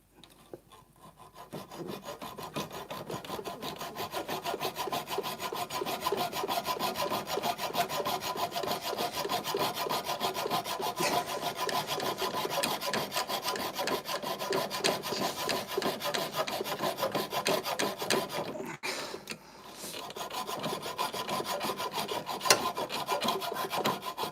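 A hacksaw cutting through a part on a Mercedes CLK500 V8 engine: steady, continuous rasping strokes for over twenty seconds, close and fairly loud, with a brief pause near the end before sawing resumes.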